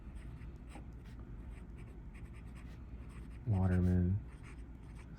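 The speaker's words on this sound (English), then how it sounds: "Lamy's OM nibs are very, very smooth, and they write a bit like an architect nib" Soft, steady scratching of a Lamy Ideos fountain pen with an oblique medium nib writing on paper, close and quiet, with a single word spoken briefly partway through.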